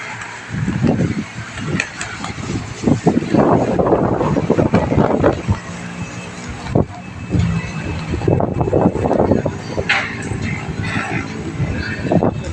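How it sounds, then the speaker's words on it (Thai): Strong wind gusting hard across the microphone in rough, uneven buffeting bursts, loud and close throughout, with faint talk now and then. "ตรงสะบัดเป็นชัญลักษณ์ว่าลมแรงครับ"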